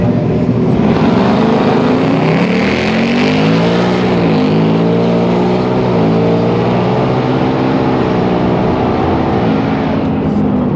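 Loud, continuous roar of a Whipple supercharged Darkhorse car doing a burnout at a drag strip, engine held high and steady with pitch wavering slightly throughout.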